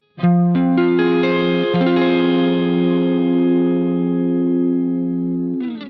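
A single barre chord, fingerpicked, rings out on electric guitar with chorus and slight distortion, arpeggiated at the start, then sustaining and slowly decaying before a final restrike.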